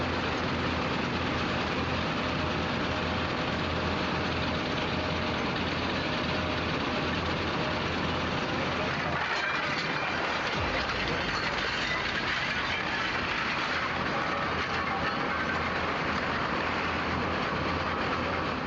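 An aluminum shredding machine with hardened steel blades spinning at 480 RPM runs at an aluminum plant, giving a loud, steady mechanical roar and rumble with a brief dip partway through.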